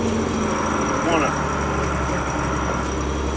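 A farm tractor with a disc attached idles in a field, giving a steady, loud engine rumble throughout while someone talks over it.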